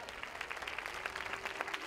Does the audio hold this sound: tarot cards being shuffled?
no